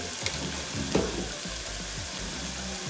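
Egg masala with chilli powder and coriander powder sizzles in a pan while being stirred: a dense, even frying hiss with a couple of brief spoon knocks, close up, over faint low tonal background music.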